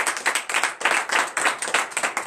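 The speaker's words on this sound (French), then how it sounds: "Nous donnons encore l'acclamation." A church congregation claps together during morning prayer, a quick run of sharp, uneven hand claps in short surges, close and lively, with no talking.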